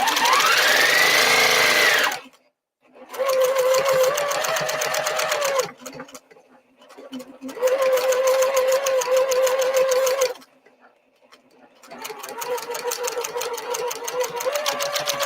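A sewing machine runs on holiday projects in three loud, close bursts of steady mechanical whirring, each several seconds long, separated by brief pauses.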